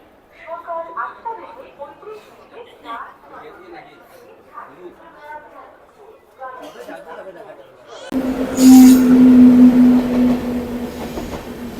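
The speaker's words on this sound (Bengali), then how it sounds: "এই 5 নম্বর প্ল্যাটফর্ম দিয়ে এই শিয়ালদা রাজধানী ক্রস করছে" Sealdah Rajdhani express train passes through platform 5 at a station, a loud rumble and clatter of wheels with a sustained horn blast, following a stretch of people talking on the platform.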